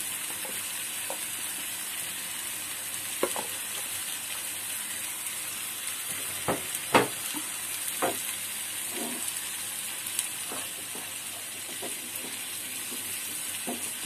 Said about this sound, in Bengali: ভালো করে কষিয়ে নিচ্ছি আমি সরষেটাকে ভালোভাবে